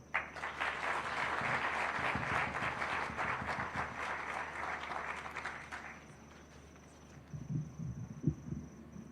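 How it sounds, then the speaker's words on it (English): An audience at the Google Kenya 15th anniversary celebration in Nairobi applauds its director with sustained, dense clapping that fills the room, then fades to scattered claps. "Let's appreciate our director with more heartier clap"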